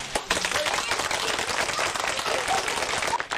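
A crowd breaks into applause, dense clapping that holds steady for a few seconds in a scene from a 1982 Greek comedy film, with voices mixed in.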